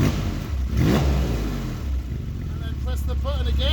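A Porsche 911 997 with Valvetronic exhaust, the valves switched by button, revs up in one quick rising throttle blip and then settles back to a deep idle. Someone speaks over the end.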